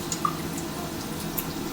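Faint, sparse drips and small splashes of tap water during a nighttime face-cleansing routine, a couple of soft clicks over a quiet background hush.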